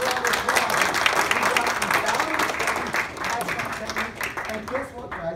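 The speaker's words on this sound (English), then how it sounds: "Give a big round of applause." A live audience bursts into a sustained round of clapping that fills the room, dense and steady, tapering slightly toward the end, with voices mixed in beneath the applause.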